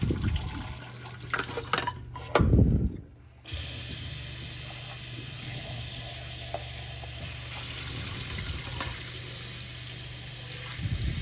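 Espresso machine grouphead parts are rinsed under a running tap, a steady hiss of water broken by a brief splashing burst and a short pause before the flow resumes.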